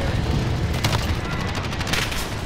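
Gunfire in a Call of Duty game, a loud, dense stretch of shots layered with booming, continuous and close, with no clear pauses.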